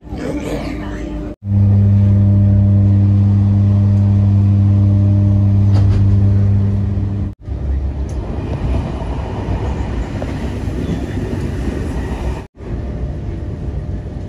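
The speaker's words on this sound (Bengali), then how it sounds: "আমাদের ট্রেনটি ছাড়ছে প্যারিস সিটির উদ্দেশ্যে।" A train departing for Paris, a loud steady rumble and hum of the carriage with a strong low drone early on, continuing as running noise with brief cuts, and voices talking faintly underneath.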